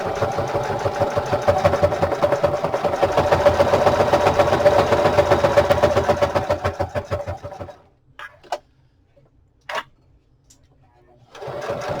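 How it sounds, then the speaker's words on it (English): A sewing machine runs a long, rapid, steady stitching burst for about seven seconds, near and loud, stitching a pocket onto an old book cover. It slows and stops, then a few short clicks and a brief restart of stitching follow. "I'm going to back stitch along the top of the pocket a little bit"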